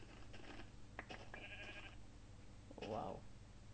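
A sheep bleating in the video game Minecraft, one short bleat near the end against a quiet background, with a person talking.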